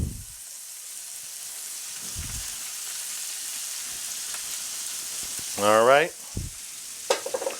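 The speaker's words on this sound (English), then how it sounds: "And now you want to stir this all together." Bacon chicken with celery and cabbage sizzles steadily in a skillet as it is stirred, a soft constant fry with occasional scraping; a voice speaks briefly near the end.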